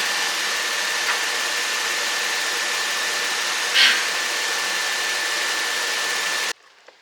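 A Toyota Mark II JZX90, just fitted with a new cooling system, idles steadily as a constant hum with a brief faint blip midway, then cuts off abruptly near the end.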